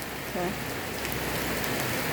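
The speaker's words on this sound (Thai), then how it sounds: "เอ้ยฝนตกแดด" Steady rain falls on a surface during a sunshower, a dense, even hiss with close raindrop patter. A faint voice is briefly audible beneath it.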